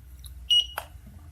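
An aftermarket tire pressure monitoring display for a heavy-duty truck sounds a short electronic double beep as its set button is held, followed by a faint click, in an otherwise quiet interior.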